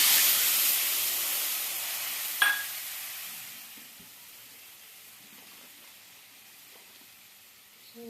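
Spice paste of turmeric, cumin and bay leaf frying in oil for a katla fish curry with potato and broccoli, a loud hissing sizzle at first that fades to a quiet simmer, with one brief knock.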